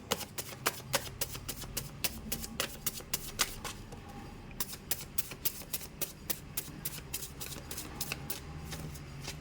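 Tarot cards being shuffled during a relationship reading, a steady run of crisp, close riffling snaps and slaps repeating throughout with no voice over them.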